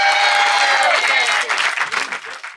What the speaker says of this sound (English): applaud for Josh for his birthday.